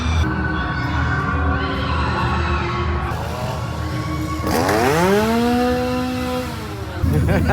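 A chainsaw roars and revs at a Halloween Horror Nights haunted attraction, loud and close with its pitch sweeping up and down over a crowded background din and some talk.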